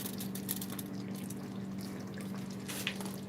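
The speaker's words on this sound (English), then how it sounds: "You can see it's still bubbling." Homemade pasta cooking in a pot of bubbling boiling water, giving a steady close-up gurgle and fizz of bubbles with small drips and pops, alone without talk, against a constant low hum.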